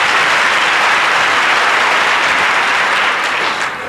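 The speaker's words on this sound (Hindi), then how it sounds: "होलसेल में बजा लो एक ताली" A large audience at a spiritual gathering held in a jail claps loudly in unison, a dense, sustained roar of clapping that tapers off slightly at the end.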